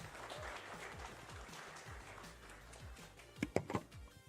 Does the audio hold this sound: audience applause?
yes